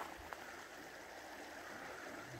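A river rushes steadily in a continuous broadband wash in the Khibiny mountains, flowing nearby, with no voices.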